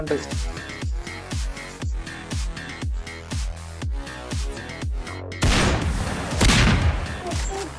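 Sniper rifle shots in a Roblox round ring out in a steady series of sharp, booming reports about every half second, then give way to a denser, louder burst of blasts and noisy clatter near the end.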